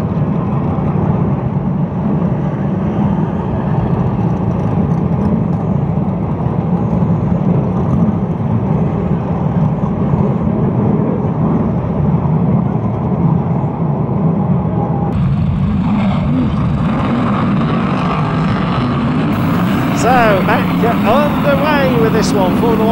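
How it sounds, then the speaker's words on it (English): BriSCA F1 stock car engines roar continuously at a Kings Lynn oval heat race, loud and droning throughout, with a public-address announcer talking over the racing noise. "Formula One Stock Car Heat number 2"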